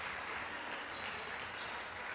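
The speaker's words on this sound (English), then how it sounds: "And the crowd applauding" Crowd applauding at a netball match between Wales and Uganda in Sydney, a dense, steady wash of clapping from a large arena audience, continuous and even throughout.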